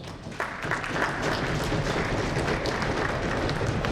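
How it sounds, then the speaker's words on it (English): Steady applause from a crowd of parents at a children's string music festival concert, dense and sustained clapping throughout with no pauses. "let's give them a round of applause"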